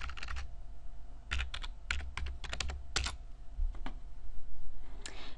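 A computer keyboard is typed on nearby in quick bursts of clicks separated by short pauses while a company name is entered into a search box.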